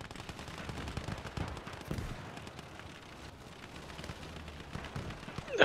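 Dense, continuous gunfire from many weapons in the World War II video game Call to Arms: Gates of Hell, rapid overlapping shots and bursts filling the whole stretch at steady loudness, with a sharper burst at the very end.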